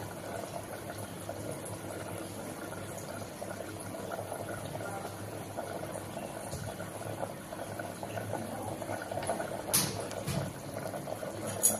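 Kachri vegetable simmers in a pot of water, giving a continuous soft bubbling and gurgling hiss throughout, fairly quiet, with a few faint clinks near the end.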